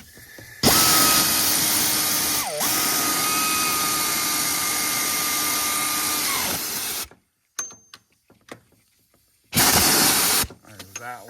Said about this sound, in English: I'm just going to use this deep 15 on my air ratchet.